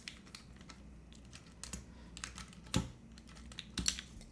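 Fingers tap a mechanical keyboard with a tuned spacebar in a short, quiet, irregular run of clicks and clacks, with a couple of sharper, deeper thumps from the spacebar.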